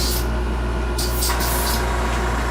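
Airbrush test shot of gold paint before spraying a model pylon, two or three short hissing bursts over a constant low hum from the compressor, close and moderately loud, with no talk.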